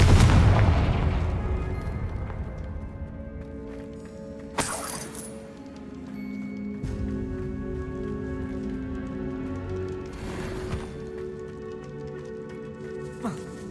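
Spell explosions in Hogwarts Legacy gameplay: a deep boom at the start, followed by two sharp bursts a few seconds apart over a sustained game music bed, with a spoken voice faintly present.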